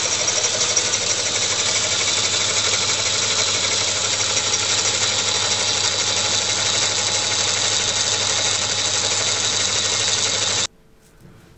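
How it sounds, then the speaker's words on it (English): A lathe boring the crosshead guides of a Tangye mill engine, with a boring bar set between centres, hums and whirs steadily for about ten seconds with a faint rhythmic vibration, then cuts off abruptly into quiet. "Boring bar set up between centres on the lathe"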